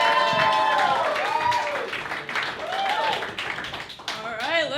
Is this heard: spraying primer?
no